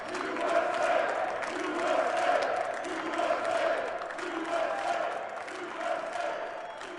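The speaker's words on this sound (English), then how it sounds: "There was the cheering crowd of traders, business leaders" A crowd of traders and business leaders on the New York Stock Exchange floor cheers and shouts in a broad, swelling roar, with excited voices rising and falling across the whole stretch.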